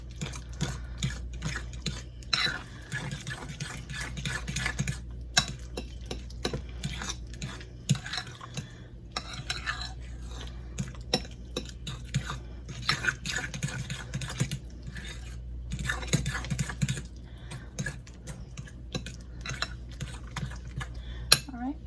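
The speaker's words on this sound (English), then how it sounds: "And then we're just gonna give this a good stir." A potato, egg and vanilla mixture is stirred in a bowl, giving repeated close clicks and light scraping taps in an irregular rhythm over a low background hum.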